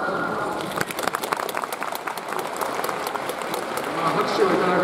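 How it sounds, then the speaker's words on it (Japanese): Football supporters clap during a home-season-finale ceremony in a stadium, sharp scattered claps building into a thicker, louder wash of applause, with a voice heard over the crowd. "拍手をいただくというのはちょっとおかしいかもしれませんが"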